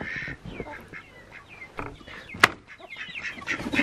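Chickens cluck in a snowy yard in the morning, with a few scattered, fairly soft calls rising from quiet outdoor background noise.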